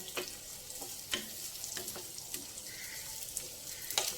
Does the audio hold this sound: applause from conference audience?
no